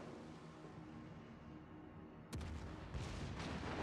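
Warship guns in a naval video game fire at an island, two sharp heavy booms arriving about half a second apart and rolling out over a low background rumble.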